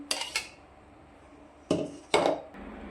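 Vegetables for bhajiya are stirred with gram flour in a bowl, giving a few separate clinks and knocks of a utensil against the dish, close and brief, with quiet gaps between them.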